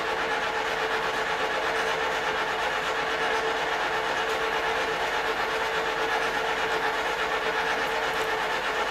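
Two battery-powered popcorn machines run side by side as they warm up, one louder than the other, giving a constant whirring, rattling drone close by with no talk.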